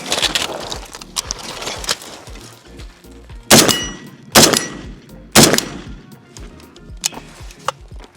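Jim Fuller-built AK-74 rifle firing outdoors: several loud, sharp cracks spaced irregularly, with fainter shots and clanks between them, close by.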